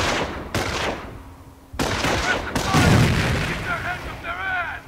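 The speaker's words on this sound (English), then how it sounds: "Let's throw a grenade to destroy the machine gun team." A grenade blowing up a machine gun team in the Company of Heroes strategy game, with heavy booming blasts and sharp cracks in quick succession, loud and close, trailing off into rumbling battle noise.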